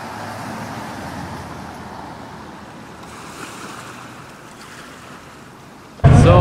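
Surf rolls in at the beach beside the Stone Town ferry terminal in Zanzibar, a steady washing roar with wind and faint traffic, ending in a sudden loud burst.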